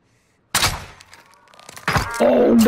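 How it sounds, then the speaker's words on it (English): A crossbow bolt striking a player in a video game, a sudden loud thunk followed by a crunching impact and then a pained grunt from the hit character. "I just hit him with the fucking crossbow, bro."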